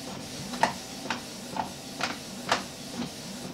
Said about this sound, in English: with this one, I'm going to send it to my inkjet printer